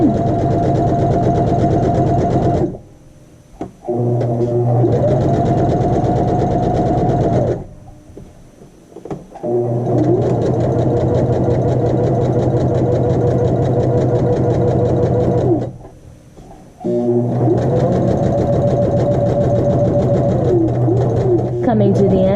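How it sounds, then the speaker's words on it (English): A sewing machine stitches a straight line half an inch in on a 12-inch muslin square, running steadily in three long buzzing stretches separated by brief pauses, loud and close, with a voice speaking over it. "And now we're sewing our line."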